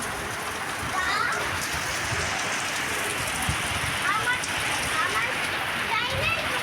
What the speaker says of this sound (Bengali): খুব জোরে কিন্তু বৃষ্টিটা পড়ছে।